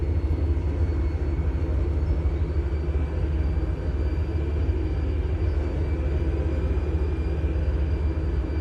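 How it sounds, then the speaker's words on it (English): Train in the rail sim Transport Fever 2 slowing as it approaches, a continuous deep rumble with steady low drone and faint high whine, constant in loudness throughout, no voices. "You hear the train deaccelerate, drops down to about 60k."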